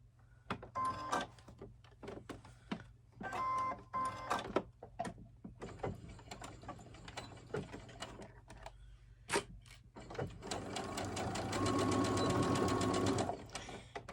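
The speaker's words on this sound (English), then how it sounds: "that's where we're going to sew across our corner" A sewing machine stitches across the corner of a piece of fabric. It runs in short bursts, stops in between with small clicks and handling noise, and finishes with a longer steady run near the end.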